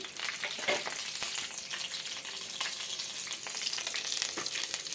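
Green chillies and peanuts frying in oil in a pan for bachali kura pachadi, a continuous bright crackling sizzle, fairly quiet and steady, no voices.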